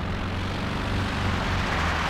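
Propeller warplanes in a World War II combat video game, Axis versus Allies, drone steadily overhead: a loud, continuous engine roar with a low throbbing hum that holds for the whole stretch, no voices.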